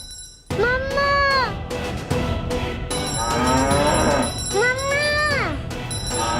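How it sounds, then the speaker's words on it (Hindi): A cow moos twice, loud and close, each call a long rising-then-falling bellow, with someone speaking between the calls. "तुम इतना क्यों रंभा रही हो?"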